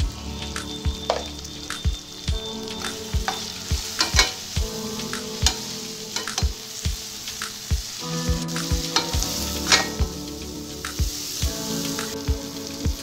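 Tomatoes frying with chili and coriander powder for paneer biryani: a constant crackling sizzle with regular spoon taps and scrapes against the pan, close and moderately loud, no voices.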